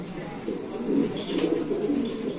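A black Mundian pigeon coos in low, soft, repeated murmurs, close by and steady for a couple of seconds, with no talking over it.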